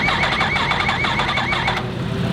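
A racing motorcycle engine revs hard close by, a loud buzzing wail that rises and falls in quick repeated surges before settling near the end.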